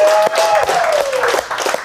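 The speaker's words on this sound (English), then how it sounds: "All right, big round of applause." Staff at a Texas barbecue restaurant give a short round of applause, brief close clapping in a busy room, with talk and a faint whistle-like tone running underneath.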